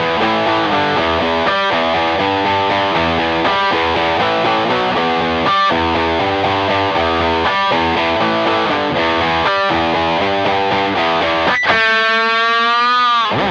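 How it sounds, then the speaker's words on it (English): Electric guitar riff driven through overdrive distortion and blues pedals, a thick, saturated tone playing a steady rhythmic chugging pattern with brief gaps, ending on a sustained, wavering bent chord; loud and close, no voices. "With the overdrive distortion pedal tuned all the way over to the overdrive sound"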